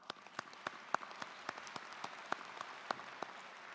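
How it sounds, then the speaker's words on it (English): Convocation guests at the University of Manitoba try out a round of applause: sparse, distinct claps from a thin crowd, scattered and irregular with a few sharper, louder hits. "for some families, the appropriate response will be to clap"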